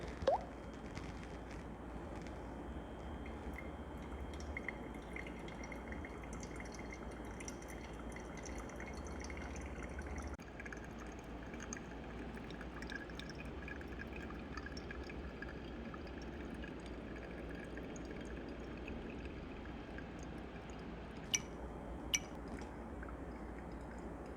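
Water is poured over Ethiopian Yirgacheffe coffee grounds in a manual brew, a soft, steady trickling and dripping heard close up and quiet, with a few faint clinks near the end.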